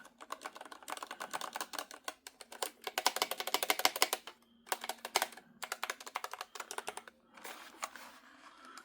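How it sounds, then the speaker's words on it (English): Typing on a Turtle Beach Vulcan II TKL Pro mechanical RGB gaming keyboard: close, crisp clicky keystrokes in quick bursts, broken by short pauses, with no talking. "Keyboard seems very nice to type"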